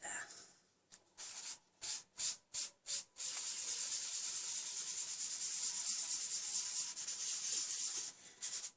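A sponge rubs ink onto a paper Christmas card, first in a handful of short separate scrubbing strokes, then one long continuous rasping rub, close and fairly quiet.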